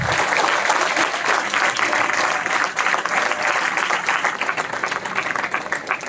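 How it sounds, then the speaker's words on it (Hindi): Audience applause welcoming someone speaker onto the stage at a personality development talk, dense steady clapping from a sizable crowd sustained for about six seconds without pause. "तालियों की गड़गड़ाहट के साथ"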